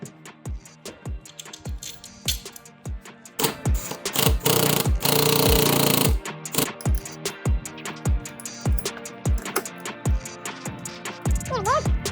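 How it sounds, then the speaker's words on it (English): Spacer bolts are screwed in while installing a Recaro car seat, making a rapid run of rhythmic metallic clicks and ratcheting, with a louder buzzing burst in the middle, close up and without speech. "put your spacer in the other side, and then start screwing it in"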